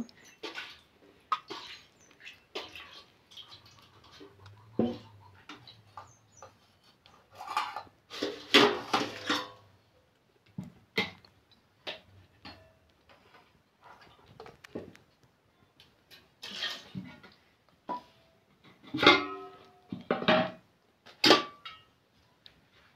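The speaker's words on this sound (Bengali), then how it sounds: "পায়েসটা এবার আমি বাটিতে তুলে নেব।" Rice pudding made with aatap rice being ladled from a pot into a bowl: sparse close clinks and scrapes of spoon against metal, with quiet pauses between the knocks.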